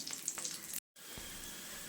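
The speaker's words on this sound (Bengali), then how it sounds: "নাস্তাগুলো আমার দু পিঠি ভালোভাবে ভাজা হয়ে গেছে" Homemade tiffin snacks frying in a pan, giving a close crackling sizzle that cuts out briefly and then resumes as a steady hiss.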